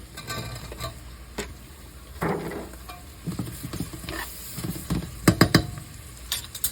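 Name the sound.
soup simmering in a pot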